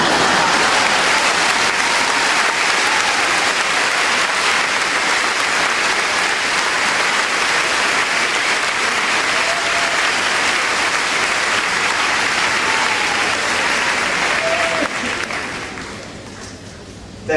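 Loud, sustained clapping fills a high school graduation ceremony for about fifteen seconds, then thins and fades toward the end, with no voices over it.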